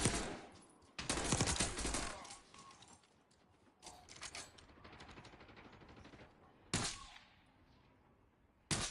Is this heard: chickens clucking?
no